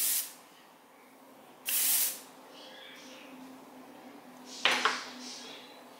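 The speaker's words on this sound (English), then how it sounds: "So I'm just going to spray this everywhere" Short hissing bursts of aerosol hair texture spray, one at the start and another around two seconds, then a brief rattle near the end, fairly quiet.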